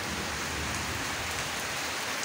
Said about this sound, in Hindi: सही आवाज चल रही है और बहुत तेज़ बारिश है।